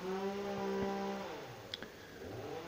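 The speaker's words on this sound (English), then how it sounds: "Interesting chainsaw noises in the background." A chainsaw whines faintly in the distance, a buzzing engine drone that fades after about a second, followed by a few light clicks.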